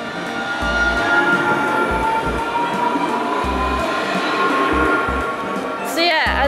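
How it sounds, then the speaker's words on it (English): A Nottingham tram rumbles past in the street with a loud, steady rolling roar, then a sharp squeal near the end, while people talk over it. "Oh, a tram."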